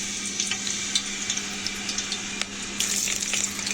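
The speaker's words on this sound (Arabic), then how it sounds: "دلوقتي بقى هنجيب زيت غزير وهنقلي فيه الشيبسي كده" Potato chips fry in plenty of deep oil at home, a steady dense sizzle and crackle close by with small pops throughout, no voices.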